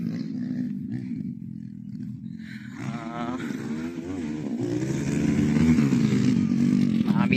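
Hero Impulse and Xpulse 200 motorcycles on an off-road practice ground, engines droning and revving steadily and growing louder toward the end, with voices talking over the riding.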